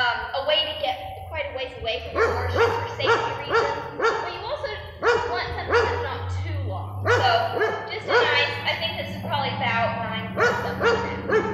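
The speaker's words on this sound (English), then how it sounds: "excuse the dog barking in the background" A pet dog barks and yips repeatedly in bursts in the background of an outdoor horse groundwork session, often under a person's steady talking nearby.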